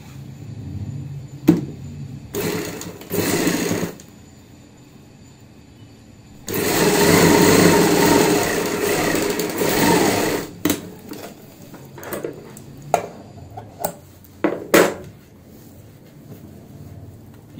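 A sewing machine runs in bursts while stitching a top seam on a box pleat palazzo pant near the zip, with one long steady whir in the middle and short starts and stops around it.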